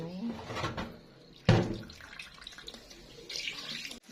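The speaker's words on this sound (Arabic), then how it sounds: "نغسل الرز المصري" Egyptian rice being washed under running tap water in a kitchen, a soft steady stream with splashing and a sharp knock near the start, fairly quiet throughout.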